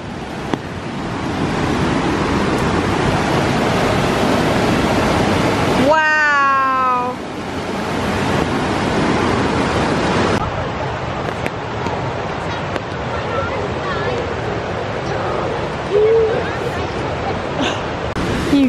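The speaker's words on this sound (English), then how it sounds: "I see the waterfall" Steady rushing of a waterfall in the Blue Ridge mountains near Helen, Georgia, a broad continuous roar heard from a distance, with someone talking over it and a brief whistling tone partway through.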